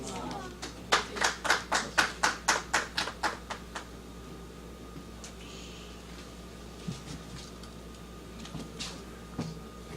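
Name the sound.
applause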